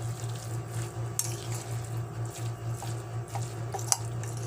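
Spring onion being mixed into lumpia shanghai filling in a bowl, with soft squishy stirring, faint scraping against the bowl and a couple of sharp clinks, over a steady low hum.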